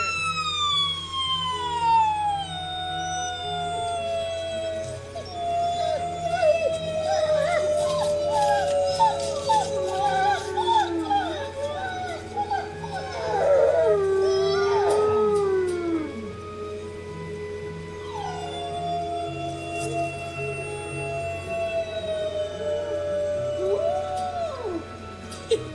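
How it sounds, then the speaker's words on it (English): A wolf howling from a distance: long, gliding, wavering howls rise and fall over a low background hum, with a few overlapping yips partway through and fainter howls near the end. "So she's going to start a howl from over there."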